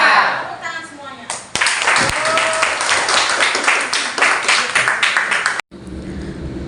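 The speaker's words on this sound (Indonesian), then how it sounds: "Tepuk tangan semuanya." Students in a vocational computer-networking class clap their hands together in a classroom, a loud burst of dense clapping mixed with voices that cuts off abruptly, followed by quieter room noise.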